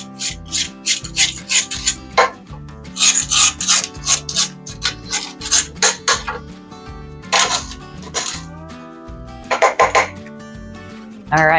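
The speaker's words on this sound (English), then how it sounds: "I'm just going to scrape down the sides of my bowl." A spatula scraping the sides of a bowl of creamed butter and sugar for cookie dough: repeated close, loud rasping strokes in short bursts, with music playing underneath.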